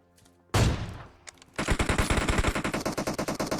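A loud single blast followed by rapid bursts of automatic gunfire in PUBG Mobile, close and continuous, with game-style punchy reports.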